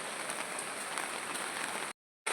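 Steady rain patters densely on a surface, close and even, then briefly cuts to silence before resuming.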